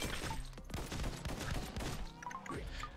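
Rapid, dense shooting from the top-down roguelite bullet-heaven game X Invader: a steady stream of overlapping shots fires continuously for the whole stretch, mixed with game music.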